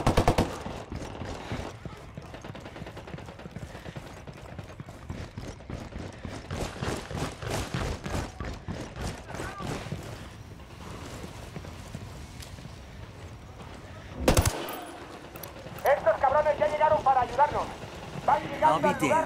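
Bursts of rifle fire and shots in a Ghost Recon Wildlands firefight, repeated cracks through the scene with radio-style voices talking between and over them, and a louder burst near the end.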